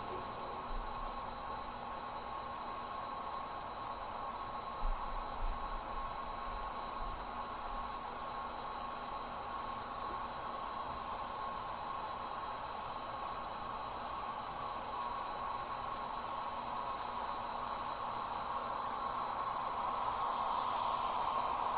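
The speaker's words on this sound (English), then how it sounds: "with that train passed" Model freight train with a DPU at the rear rolling past on a cement-plant layout, a steady, continuous rumbling rush with faint rail hum held at an even level throughout, no voices over it.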